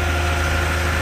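A 38 meter concrete pump truck runs steadily at a job site, its engine giving a continuous low, loud idling rumble with a strong deep hum and no pauses.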